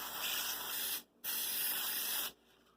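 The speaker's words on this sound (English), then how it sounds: "Why does it spray upwards?" A spray can sprays upwards in two loud, hissing bursts, the first about a second long, then a brief gap and a longer second burst.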